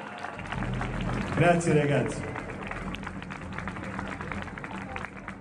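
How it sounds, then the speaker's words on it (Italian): Applause for a junior band at a music school recital, clapping from the audience under a brief spoken thank-you, swelling in the middle and then thinning into a steady patter. "Un applauso alla Junior Band."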